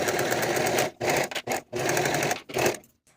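A sewing machine runs seams at a quarter-inch allowance on raglan top pieces, in three loud sustained bursts separated by short pauses, close up with no talk.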